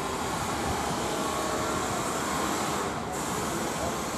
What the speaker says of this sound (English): Uxbridge train!